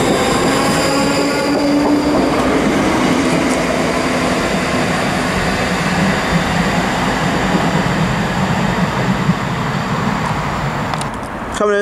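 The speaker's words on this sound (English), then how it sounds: "Coming in 1904, first ScotRail service from Edinburgh Waverley to Milngai." A ScotRail electric unit 334039, running the Edinburgh Waverley to Milngavie service, pulls into a station with a loud, close, steady rail rumble. Faint wheel squeal runs through it, and the noise eases slightly as the train slows near the end.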